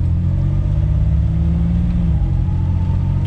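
A lifted Chevrolet Astro 4x4 van pulls away in third gear on a wet surface, its engine droning with a loud, steady low rumble and a tone that climbs slowly and then shifts.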